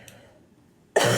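A single person's cough bursts out loud and close near the end, after a quiet stretch of faint room noise.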